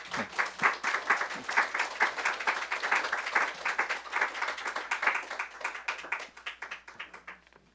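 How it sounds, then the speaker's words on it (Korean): A church congregation gives a big round of applause to welcome a missionary coming forward, dense steady clapping that fills the room and tapers off near the end. "나오실 때 환영의 인사로 반갑습니다 이런 의미로 큰 박수로 맞아주시면 감사하겠습니다"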